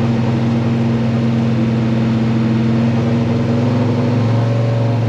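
An engine with twin Edelbrock VRS-4150 carburetors on a tunnel ram intake idles loud and close while still warming up, a steady low rumble with a slight uneven burble.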